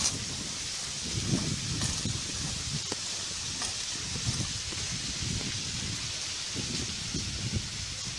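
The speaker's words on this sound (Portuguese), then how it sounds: "olha o vento. Coisa de louco." Strong wind rustles leaves in steady gusts, with a continuous hiss and buffeting surges, loud and close, with no talk.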